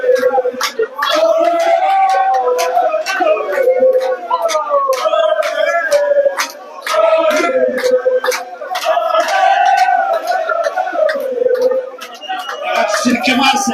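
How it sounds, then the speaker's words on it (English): A crowd of pool fans at a final involving Kenneth Odongo keeps up a loud, rhythmic chant, many voices rising and falling together with sharp claps and shouts mixed in. "Listen to the chant of the ODONGO crowd here"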